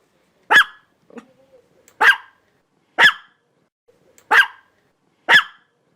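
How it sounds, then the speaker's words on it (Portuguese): Five short, sharp dog barks spaced about a second apart, clear and close, with quiet gaps between them. "O latido do cachorro é um som curto."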